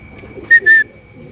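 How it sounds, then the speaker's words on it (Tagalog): Racing pigeons at their loft give two short, close calls over a steady faint tone, with quiet background murmur before and after. "Lupay pa yung mga kalapati natin"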